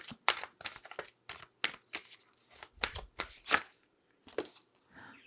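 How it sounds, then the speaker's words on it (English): A deck of tarot fairy cards is shuffled by hand, with quick, crisp riffling bursts that come in irregular clusters and short pauses, close up and clear. "So let's pull a fairy card."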